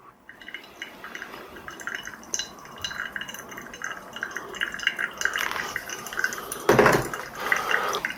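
Water poured for a coffee brew, 50 grams added in one pour: a steady, close trickle and patter of liquid with faint glassy clinks, swelling to a louder splash near the end.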